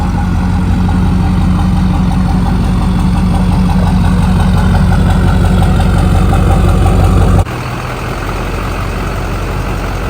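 A 20-year-old rusty Duramax diesel truck engine idles steadily and loudly close by after starting, with a low, even rumble and clatter that drops abruptly in level near the end but keeps running.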